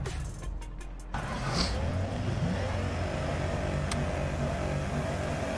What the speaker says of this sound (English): rip Cali Banks in Alec Hohnadell's S14 on Assetto Corsa